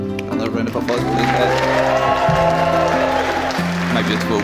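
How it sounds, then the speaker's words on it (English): A crowd of wedding guests claps and cheers continuously at a reception, the applause filling the room while music and voices carry underneath. "which another round of applause, please."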